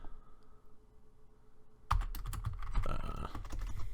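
Typing on a computer keyboard: after a quiet pause, a rapid burst of close, crisp key clicks and clatter continues steadily, with no voices.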